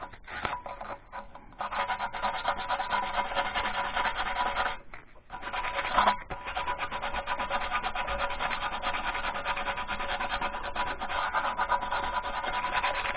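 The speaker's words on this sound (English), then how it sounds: "I'm gonna sand this spot right here real good. Gotta get all the paint, all the rust off of it." Sanding paint and rust off a lawn mower's leaky gas tank: a steady, close abrasive rubbing that runs nearly continuously, with one brief pause midway, and no voices.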